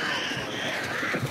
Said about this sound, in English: Careful of those crows.